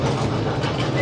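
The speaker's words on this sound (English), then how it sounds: "Let me show you the train here." A small choo-choo train ride at Icon Park in Orlando rolls past in a steady, close rumble with faint clickety-clack, like a fairground ride circling nearby.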